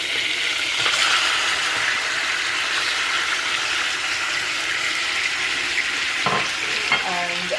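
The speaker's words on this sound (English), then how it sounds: "So I'm just going to add all of that seasoning into the butter." Onion, spring onion, thyme and mixed pepper frying in butter for a Jamaican stew pork dish, a steady close sizzle that fills the whole stretch, with a brief clink and a watery rattle near the end.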